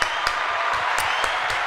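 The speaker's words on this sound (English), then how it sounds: "I'm going to applaud that." Hands clap in applause for the breakdancer Raygun, a quick run of sharp claps at an uneven, moderate pace, fairly close and loud.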